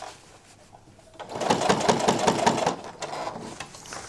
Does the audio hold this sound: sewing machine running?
yes